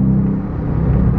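A 2021 Dodge Charger R/T V8 engine gives a brief, loud, deep rumbling roar while accelerating, heard close up from inside the car.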